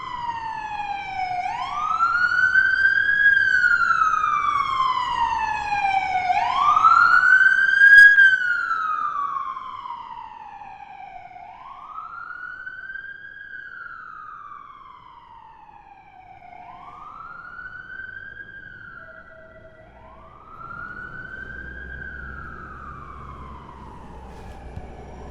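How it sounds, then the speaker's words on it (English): An ambulance siren wails on a New York City street at night, its rising and falling sweeps loud at first, then easing and continuing in a steady cycle as it moves along the avenue. "Sounds like an ambulance is heading this way."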